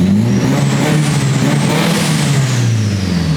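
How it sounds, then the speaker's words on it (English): Mitsubishi Evo 5 with a newly installed turbo revving, a loud close engine note that rises and falls with sweeping pitch and turbo whine, alone without talk. "It's building like 3 pounds just revving."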